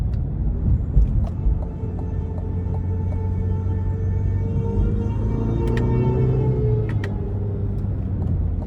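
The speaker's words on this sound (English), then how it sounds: "Feels like it wants to shift a little more quickly, but it also feels like it wants to redline pretty much through every gear here" A 2020 Cadillac CT5 Premium Luxury Platinum in sport mode gives a steady low engine drone and road rumble from inside the cabin. The pitch climbs gradually as the engine revs, with faint clicks and no talking.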